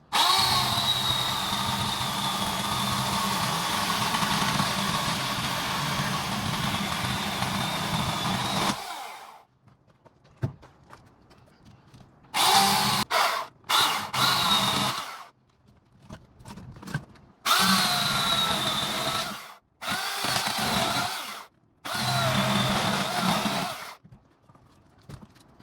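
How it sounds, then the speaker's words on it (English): A chainsaw cuts into a piece of driftwood for a lamp, roaring loudly and steadily for several seconds, then revving in short bursts separated by quiet gaps. "So I'm going to hit it with a chainsaw and then go from there."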